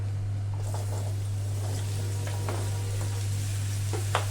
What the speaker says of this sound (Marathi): ह्या ज्या डांगराच्या फोडी आहेत आपण ह्या याच्यामध्ये घालूया